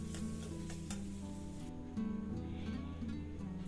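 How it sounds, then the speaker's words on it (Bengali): Boiled small potatoes are mashed and stirred into spices in a pan as stuffing for Bengali lonkar chop, stuffed chilli fritters. A faint, steady soft sizzle and mixing rustle sits over a low background hum, with no voices. "তো এই আলুটাকে খুব ভালোভাবে এর মধ্যে মাখিয়ে নেব।"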